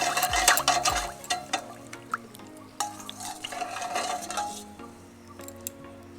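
A spoon stirs yeast into warm milk in a bowl, giving clinking scrapes against the sides and soft liquid swirling, close and fairly busy, with brief pauses between strokes.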